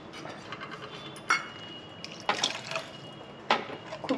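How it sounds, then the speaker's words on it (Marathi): Water dripping and trickling into a pot of horse gram flour curry on the stove, a few short splashy pours and drips against faint background hiss, close and quiet. "आता आपल्याला जितकं पातळ हवं आहे तितकं पाणी घालून घ्यायचं आहे।"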